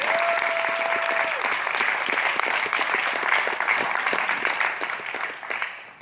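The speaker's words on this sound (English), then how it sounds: "Give those people a round of applause for the work they do." Sustained applause from a crowd, steady clapping that swells and then tapers off toward the end.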